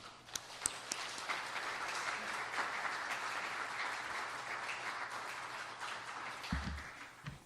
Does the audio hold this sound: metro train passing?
no